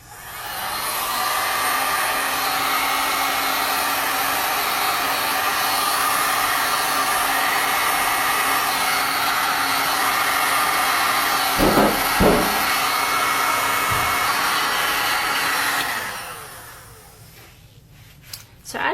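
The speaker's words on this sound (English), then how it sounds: "after you hit it with the heat gun" A heat gun blasts steadily at close range while melting wax off a surface, a loud continuous airy roar holding for about fifteen seconds with a couple of brief knocks before it winds down and stops.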